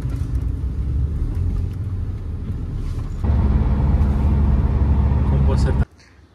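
Street traffic in Manila rolls past as someone waits roadside for a taxi: a loud, constant low rumble of engines that swells halfway through, with faint voices mixed in, then drops away abruptly.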